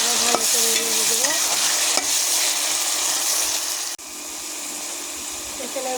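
Goat fat and potatoes being stirred with a ground paste of ginger, cumin, coriander and garlic in a pan, giving steady sizzling and frying with scraping stirs throughout, fairly loud and close, with a brief dip near the end.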